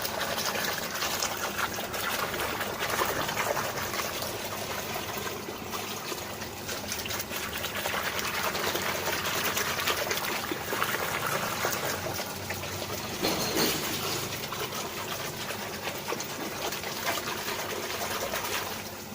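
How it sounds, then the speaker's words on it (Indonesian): Hand sloshing and stirring hydroponic nutrient solution in a tub of water, a continuous close splashing and trickling swirl with a brief stronger surge near the end, no talk. "Jadi kita kocok aja pakai tangan, karena saya pakai aeratornya cuma satu, biar cepat kita kocok pakai tangan"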